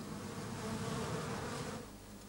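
A honeybee buzzes steadily and fairly loud at close range for the whole stretch, its drone easing slightly toward the end, with no voices over it.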